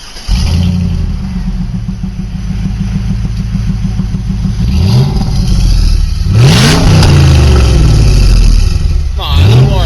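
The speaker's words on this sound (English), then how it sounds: "start it up, and rev it a couple times" A GMC S15 Jimmy engine cranks, catches and runs loudly nearby, then is revved twice in rising and falling bursts, with people talking over the running engine.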